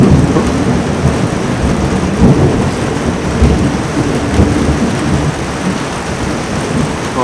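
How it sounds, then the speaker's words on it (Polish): Thunderstorm over the sea at Ustka on the Polish coast, with a loud, steady wash of heavy rain and low rumbling thunder rolling throughout, no voices. "Albo burza w morze."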